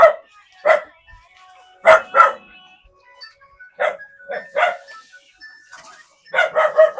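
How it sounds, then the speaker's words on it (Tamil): A dog barks in several close, sharp bursts, spaced out with quiet gaps between them, outdoors in a rural setting. "நாய் டாக் இஸ் கமிங்."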